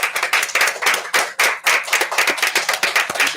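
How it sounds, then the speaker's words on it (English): At a launch event for a civics and citizenship e-learning game, an audience welcomes a speaker with loud, close, rhythmic clapping, distinct individual claps pulsing rapidly throughout. "So please, with a round of applause,"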